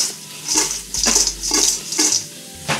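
Ribeye steak is tossed in garlic butter in a pan: a few clattering scrapes and clinks of utensil against metal come in rhythmic bursts, with a soft sizzle beneath, close and fairly loud.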